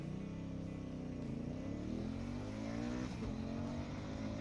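A Honda Africa Twin adventure motorcycle accelerates hard while racing another bike on the road, its engine note climbing steadily in pitch with a continuous loud roar and wind rush, close to the rider throughout.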